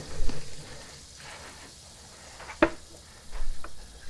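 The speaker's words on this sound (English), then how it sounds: "I can hear it just sizzling away behind me" Shepherd's pie baking in a wood-fired Gozney Dome oven gives off a faint, steady sizzle and crackle, with one sharp pop partway through and a few soft bumps of movement nearby.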